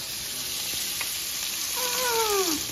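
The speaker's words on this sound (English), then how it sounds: "We got the burgers sizzling." Burgers sizzling on a hot cooking surface, a steady frying hiss with small pops and a brief whistling tone near the end, with no voices.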